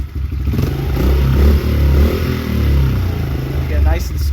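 A small engine with a freshly cleaned carburetor idles with the choke off, a loud, fairly steady low rumble with some clatter, running close by with no speech.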